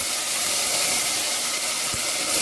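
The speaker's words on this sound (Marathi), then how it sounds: "आता आपण ही भाजी धुतलेली थोडी थोडी टाकून घ्यायची." Washed fenugreek leaves dropped into hot tempering for a dry methi bhaji sizzle with a loud, steady, close hiss that fills the whole moment without pause.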